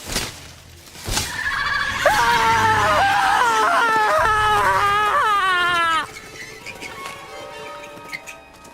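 Screams and wailing cries from characters in the video game Indiana Jones and the Great Circle, a loud, sustained stretch of wavering, rising voices that lasts several seconds and then breaks off abruptly, followed by quieter game ambience.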